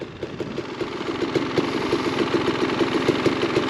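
An enduro motorcycle engine idles close by after a minor crash, with a rapid, regular thumping pulse and a rough, uneven note throughout; no voices.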